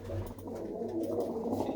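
A pigeon coos softly in a low, continuous murmur, faint and close, with a steady background hum beneath it.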